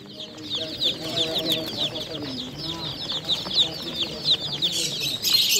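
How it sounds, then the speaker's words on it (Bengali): Baby chicks at a pet market give a dense run of high, rapid peeping chirps, close and continuous, with deeper clucking and market voices mixed in underneath. "দেখো মুরগির বাচ্চা আছে 40 টাকা জোড়া।"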